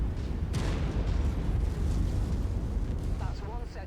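Artillery explosions in the mech combat game MechWarrior 5 rumble in a dense, continuous roar of booms and blasts, loud and close, with sharper bursts near the end.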